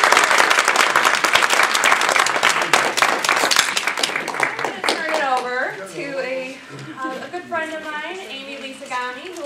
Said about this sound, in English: let's give it a round of applause for our contestants